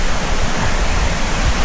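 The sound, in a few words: waterfall flowing down a mountain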